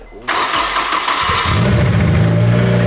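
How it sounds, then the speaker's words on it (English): A turbocharged Honda S2000 AP2 with a newly installed exhaust cranks and fires up, catching abruptly into a loud, deep, throaty idle that swells into a rising rev, close and dominant. "The exhaust sounds really nice. It's actually louder than I thought it was gonna be, but it's like deep and throaty."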